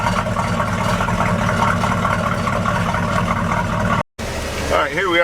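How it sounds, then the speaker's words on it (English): An old brown Chevy truck with a rattling muffler runs with a steady engine drone and road noise from inside the cab, and a voice talks over it throughout. "we're going to go for a ride in the old Brown truck, which has a rattle in the muffler."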